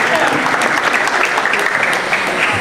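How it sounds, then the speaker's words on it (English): Sustained audience applause at a senior night ceremony, a dense, loud and steady clapping that fills the whole stretch. "Clap it up for Junior."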